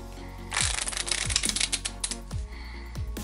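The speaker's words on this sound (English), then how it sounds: "And you would just give it a nice shuffle." A deck of playing cards being shuffled, quick riffling bursts of papery flicks and snaps that repeat in several short runs, close and fairly quiet.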